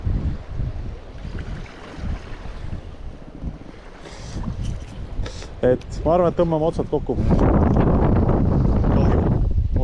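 Strong wind buffets a boat on open water, a constant roaring rush that swells louder toward the end, with someone talking over it.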